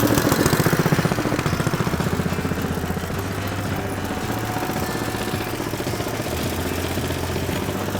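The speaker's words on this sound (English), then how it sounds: "Right, turn the tiller on." A tiller engine runs steadily to drive a drag saw, a loud continuous mechanical drone with a rapid chugging pulse that holds at an even level throughout.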